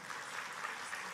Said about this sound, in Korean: let us all clap